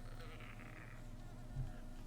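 Steady insect buzzing from bees in the video game Hollow Knight, a continuous droning hum with no voices over it.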